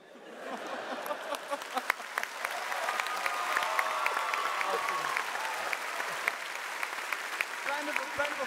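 A convention crowd at PAX West applauds voice actor Paolo during a Witcher anniversary panel, dense clapping building and holding steady with scattered cheers and voices mixed in.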